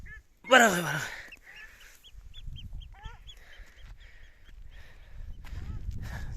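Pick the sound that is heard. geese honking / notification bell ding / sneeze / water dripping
geese honking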